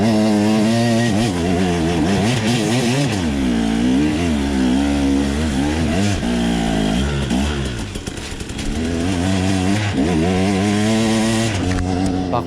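A 125cc enduro motorcycle engine climbs a hill, revving hard and rising and falling in pitch in a loud, continuous buzzing whine, briefly easing off near the end before pulling again.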